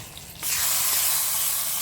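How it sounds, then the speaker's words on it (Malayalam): Mustard seeds tempered in hot oil are poured into a snake gourd theeyal curry, setting off a sudden loud, steady sizzling hiss close by that carries on for well over a second after a quieter start. "നമുക്കിനി ഇതിലേക്ക് കടു വറുത്തൊഴിക്കാം"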